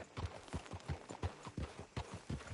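Horse hooves clip-clopping in the Red Dead Redemption 2 video game, a steady, even trotting rhythm of soft, fairly faint hoofbeats, roughly three per second, heard alone without talk.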